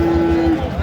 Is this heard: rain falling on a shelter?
no